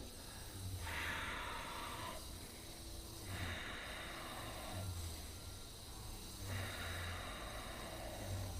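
Slow, deep yoga breaths in a runners' core and hips class, three or four long airy inhale-exhale cycles repeating at an even pace, close and fairly quiet with no talking.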